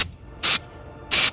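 Two short bursts of aerosol cleaner sprayed onto a Lincoln Navigator engine part being checked for a misfire, each hiss lasting a fraction of a second with a quiet gap between.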